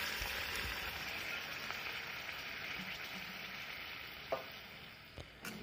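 Boiled chickpea dal with paneer is stirred in a pan with spices. A soft, steady sizzle plays with gentle stirring, then a few sharp clicks of the spoon near the end. No talking.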